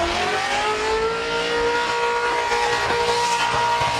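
An open-class burnout competition car holds its engine at very high RPM, a loud, steady, screaming drone with faint tire noise, heard from a distance without talk.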